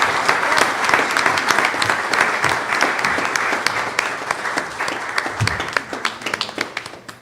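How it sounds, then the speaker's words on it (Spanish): A conference audience applauding a speaker, sustained loud clapping from a full room that thins toward the end, with a few sharp individual claps standing out. "Por favor, un aplauso para la doctora Mónica Marcela Montemayor"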